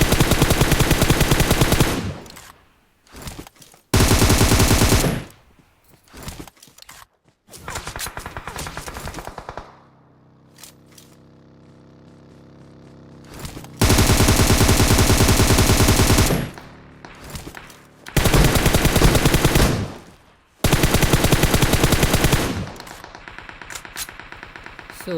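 Gunfire in the video game PUBG: loud bursts of automatic rifle fire and single shots come in clusters, with quieter gaps between volleys and distant shooting in the lulls.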